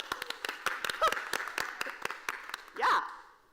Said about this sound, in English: Let's give a hearty round of applause for the hardworking food service staff here at the Best Western.